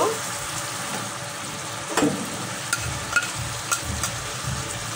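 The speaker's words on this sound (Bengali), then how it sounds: "এই পর্যায়ে আমি ডিমটা দিয়ে দেব" Washed rohu fish roe hits a hot pan, setting off a loud, continuous sizzle with a sharp burst at the drop and a few light spatula scrapes and clicks after.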